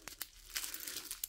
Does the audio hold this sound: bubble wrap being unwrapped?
yes